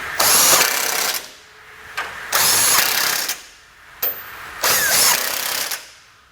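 Bolts on a Blue Ox base plate fitted to a 2020 Jeep Cherokee are driven tight with a power tool, four loud whirring bursts of roughly a second each separated by short pauses.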